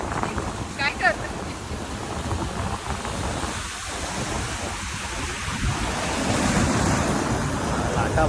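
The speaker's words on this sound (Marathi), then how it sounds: "लाटा बघा समुद्राच्या" Sea waves on the Konkan coast, a continuous loud wash of surf with swelling and receding rushes, steady throughout with a slightly stronger surge near the end.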